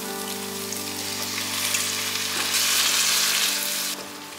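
Seasoning of soy sauce, pepper, sugar and salt stir-fried in a hot wok with added water, giving a loud, steady sizzle and hiss with scraping stirring that swells midway, then eases, with no voices.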